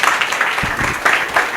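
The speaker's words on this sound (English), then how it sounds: "a round of applause for him." Short burst of audience applause at a speaker event, brisk clapping from a small crowd close by, with no speech over it.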